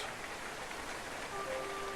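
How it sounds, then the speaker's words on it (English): Rain falls steadily in a video game, a faint, even hiss of drops on a surface with a soft tonal chime near the end. "It's like some kind of invisible screen stops rain falling on you both."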